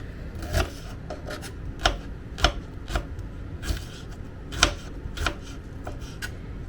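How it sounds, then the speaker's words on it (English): A knife slices through onions on a board in a quiet home kitchen, making a series of crisp, irregular cuts and soft scraping sounds close by. "I'm just slicing the onions here."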